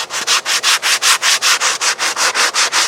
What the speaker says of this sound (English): I'll go ahead and use various sanding blocks. Here's a good 80 grit.